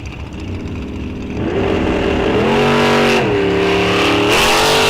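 Drag race car at Rock Falls Raceway running down the track during Pro ET time trials, a loud sustained engine roar with rising and shifting pitch steps as it pulls away.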